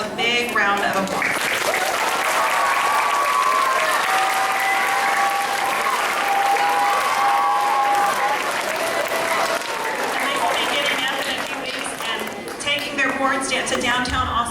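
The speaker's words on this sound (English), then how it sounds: "round of applause" Sustained applause fills an elementary school spirit assembly for a kindness campaign, loud and dense throughout, with a few voices and faint tonal sounds riding over the clapping before it thins near the end.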